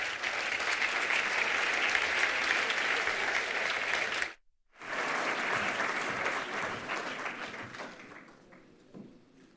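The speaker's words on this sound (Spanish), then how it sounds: "les ruego un aplauso para ella" An audience at a cultural presentation event applauds a speaker: dense, sustained clapping that cuts out briefly midway, then resumes and gradually fades out at the end.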